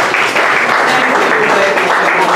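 An audience claps in a dense, loud burst of applause that holds steady through the whole stretch, with no voices rising above it.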